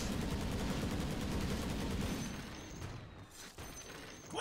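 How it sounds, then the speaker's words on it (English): Fireworks in the Dota 2 video game crackle in a rapid, dense barrage of pops and bursts, loud at first and thinning out toward the end. "Fireworks!"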